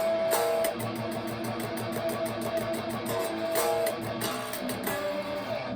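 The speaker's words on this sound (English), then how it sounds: "So Jim's rhythm under Mick's first solo is going to sound like this" Heavy distorted electric guitar rhythm part, chugging steadily under a full band mix with crashing cymbal hits, loud and dense throughout.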